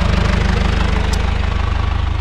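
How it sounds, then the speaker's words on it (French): A tractor engine runs loud and close with a steady, rhythmic diesel throb and a low pulsing chug, heard on a farm field while passing right beside it. "je passe à côté du tracteur, ça va faire du bruit"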